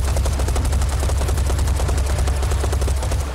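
Dual rifles blaze in Serious Sam 4, a loud, unbroken stream of rapid-fire shots that runs close and steady for the whole stretch.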